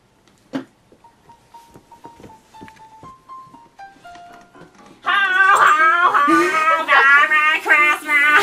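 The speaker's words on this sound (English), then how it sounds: "You spooked the dog." At a Thanksgiving Day parade, a dog whimpers in thin, drawn-out whines, then breaks into a loud, wavering howl that carries through the second half.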